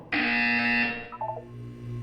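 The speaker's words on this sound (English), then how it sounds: "You will hear a buzzer." A buzzer from the video game Portal 2 sounds once, a loud harsh tone lasting about a second, followed by a short trail of fainter electronic blips and a low hum.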